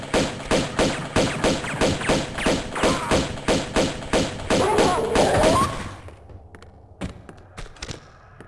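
Rapid, evenly spaced gunshots in Tomb Raider 2 Remastered, a loud rhythmic series of about a dozen thumping reports over six seconds, then stopping, leaving a few quieter knocks.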